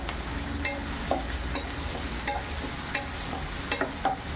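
Medium-size onion frying in a pan on high flame for sev upma, a steady sizzle with regular spoon scrapes and light clinks every half second or so.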